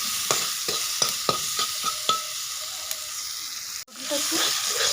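Pieces of pointed gourd fry in a pan with a bright, hissing sizzle, broken by a run of rhythmic scraping stirs that pause briefly before the sizzle resumes.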